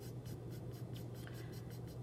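A pencil lightly shades on paper in quiet rhythmic strokes, a soft repeated scratching close up over a low steady hum, with no talking.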